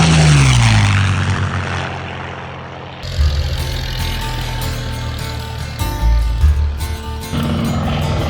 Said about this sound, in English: they're out flying 5 OX5 powered biplanes